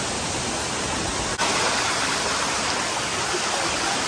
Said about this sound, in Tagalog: So ito na yung Darana Falls, Marisol, Philippines.